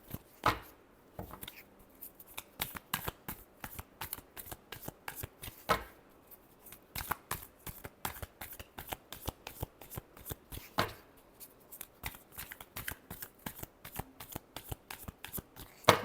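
Deck of tarot cards being shuffled by hand, a long run of quick, crisp riffling and slapping bursts in an irregular rhythm, close and fairly soft with no voices.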